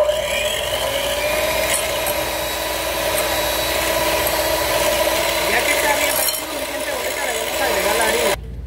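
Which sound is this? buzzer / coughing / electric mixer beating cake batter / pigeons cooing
electric mixer beating cake batter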